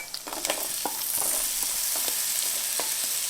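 Minced small onion sizzling in ginger-infused oil for a keto chicken curry, with a steady bright hiss and scattered scraping stir clicks, close and alone.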